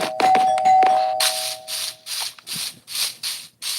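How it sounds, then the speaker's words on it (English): A home doorbell rings indoors, first with a sustained electronic tone, then as a series of six or seven evenly spaced, hissy chimes that repeat in a steady rhythm with no one talking. "I have half a mind to cut the wire, to unplug the wire, I mean, on the doorbell."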